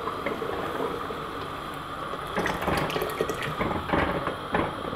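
A flour and water paste is poured slowly into a pot of beef nihari, giving a steady, close bubbling and splashing wash with brighter liquid gurgles partway through.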